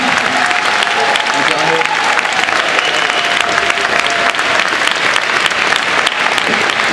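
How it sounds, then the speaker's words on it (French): Loud, enthusiastic audience applause from a large crowd, dense continuous clapping at full strength throughout, with faint voices and cheers mixed in near the start. "On les applaudit."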